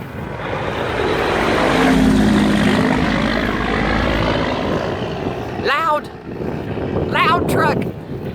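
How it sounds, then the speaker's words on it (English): A loud truck rolls past on a rural road, its engine roar swelling and then fading as it goes by, followed by a few brief outdoor noises near the end. "Loud truck."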